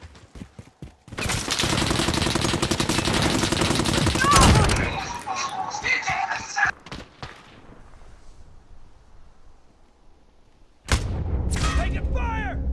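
Dense automatic gunfire rattles loudly for several seconds in a Call of Duty match, then fades into scattered shots and explosions before another sharp burst of fire, with game voices talking over parts of it.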